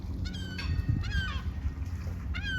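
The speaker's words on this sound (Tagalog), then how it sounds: "Daming ibon nagliliparan" Geese or other fowl honk repeatedly over the sea at sunrise, the calls coming in several overlapping bursts at moderate distance over a steady low rumble of wind or boat noise.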